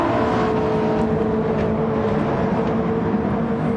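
Gran Turismo 7 race car engines during a Rolex 24 endurance race, a loud continuous droning whine with steady engine harmonics, the cars close and running at sustained speed throughout.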